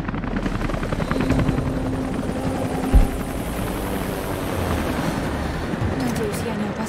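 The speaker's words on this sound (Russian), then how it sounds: "начали лететь вертолеты, подняли эту пыль, шум" Steady, loud helicopter rotor thrum in the video game Rise of the Tomb Raider fills the scene, raising dust, with a brief thump partway through and a constant rumbling wash of noise.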